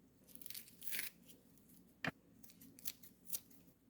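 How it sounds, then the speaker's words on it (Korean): Scissors cut through dried pollock strips in a kitchen, giving several close, crisp snips at uneven intervals, with one sharp louder cut standing out amid quiet handling noise. "잘 안 뜯어지는 거는 이렇게 가위로 잘라주면 됩니다"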